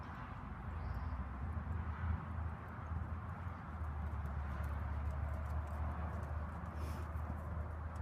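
A horse canters around an arena during a riding lesson, soft, muffled rhythmic hoofbeats heard at a distance over a steady low background rumble.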